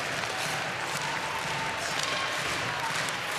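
Crowd noise swells in an arena during a women's ice hockey semifinal between Canada and Finland, a dense, continuous roar with cheering and clapping, fairly loud and unbroken throughout.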